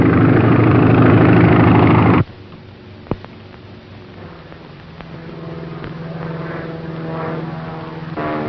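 A propeller airplane flies in a 1933 film serial. A loud engine roar holds for about two seconds, then drops to a quieter, steady droning hum with a sharp click in between.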